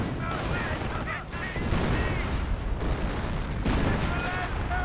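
Artillery barrage in the Company of Heroes 1 strategy game: a dense run of booming shell impacts and gunfire that keeps going for the whole stretch, loud and steady over a battlefield din.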